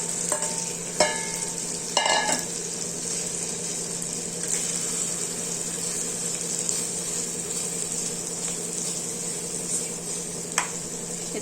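Fish eggs cook in oil and masala, giving a soft, steady sizzle beneath a few clinks and scrapes of a spoon stirring in the pan.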